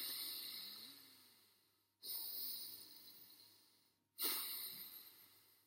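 Deep human breaths, inhaling and exhaling without pauses: three long airy breaths, each starting abruptly and fading gradually, close and fairly quiet with no talking.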